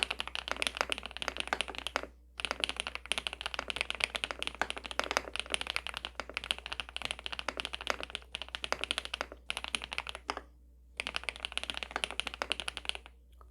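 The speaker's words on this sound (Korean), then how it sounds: "일단 이거 뽑아놓고 타건음 한번 살짝 들려드려 보자면" Rapid, steady typing on an SPM PL87W tenkeyless mechanical keyboard, dense clacking keystrokes close up, broken by two brief pauses, with no talking.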